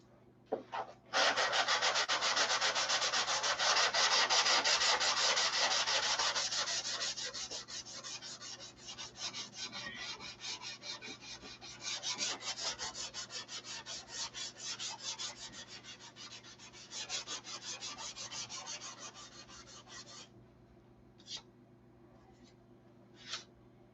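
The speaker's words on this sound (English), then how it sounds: "Sand this dry here." Dry sandpaper rubbed by hand over a wooden surface, a close, continuous rasping scrub with rhythmic strokes that holds steady for about twenty seconds, then trails off into a few brief separate rubs.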